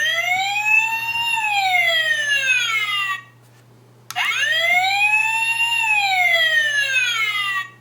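A Transformers Leader Class Sentinel Prime toy fire engine siren wails in rising and falling electronic sweeps, loud and close, cutting off for about a second before starting again.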